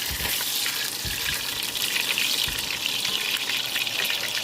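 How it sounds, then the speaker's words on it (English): Cube steaks fry in a pan with a steady, close sizzle, broken by a few soft clinks and spatters, and no one speaks. "look how beautiful the steaks are cooking"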